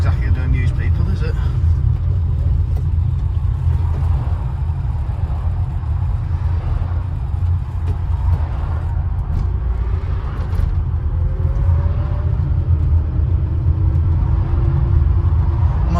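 A car creeps along in a traffic jam, a steady low engine and road rumble heard from inside the cabin, with a person talking over it throughout.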